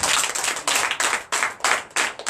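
A church congregation at a Sunday service in Comè, Benin claps in steady rhythmic bursts, loud and close, with about four strong surges of hand claps.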